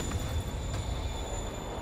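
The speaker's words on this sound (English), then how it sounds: "Train moving." A moving train in Marvel's Spider-Man video game, at Grand Central, gives a continuous rumbling rail roar with faint metallic high tones and a brief clank, heard alone.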